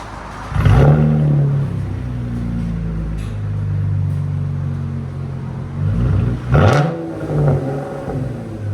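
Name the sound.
2016 Chevy Camaro V6 revving with X pipe and Dynomax exhaust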